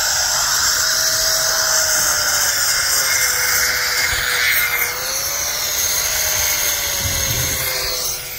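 Power saw cutting out old mortar joints in a concrete block wall during a repair, a loud, steady high-pitched grinding whine running continuously with no talk.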